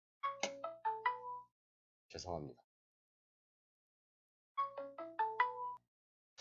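A phone plays a melodic ringtone for an incoming call, a short chiming tune heard twice with silence between, while a voice speaks briefly in the gap.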